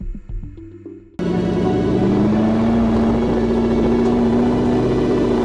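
A rebuilt Bugatti Chiron, once wrecked and split in half, pulls away with a steady, smooth engine drone and rising tone after a brief quieter idle, loud and close from inside the car.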